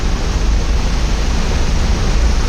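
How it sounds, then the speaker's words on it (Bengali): Floodwater washes across a submerged road in a steady, loud rushing roar, close and continuous, with no voices. "আহ কি ঢেউ"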